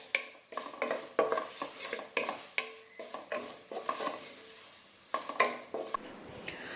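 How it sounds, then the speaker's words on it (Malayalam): A spoon stirring turmeric and fenugreek powder into lemon pickle in a pan, rapid rhythmic scraping and clattering strokes, close and fairly loud, with a light sizzle underneath. "ഇളക്കി നന്നായിട്ടൊന്ന് ഇളക്കി യോജിപ്പിക്കാം."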